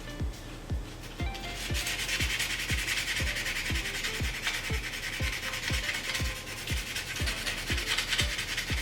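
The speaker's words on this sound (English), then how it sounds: "I'm going to sand this edge before we start stretching." Sanding the cut edge of a German 90% silver 5 Mark coin ring, a continuous close abrasive rasping with steady rhythmic back-and-forth strokes and no voices.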